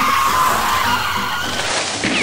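A cartoon truck brakes hard with a loud, sustained tire skid and screech lasting about two seconds, up close and dominating the scene.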